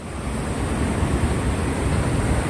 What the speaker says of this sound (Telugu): ఈ గేట్లో నుంచి నీళ్ళు చూడండి అవి అటు చూడండి నీళ్ళు ఒకసారి ఎలా పోతున్నాయో సుడులు తిరుగుతూ పోతున్నాయి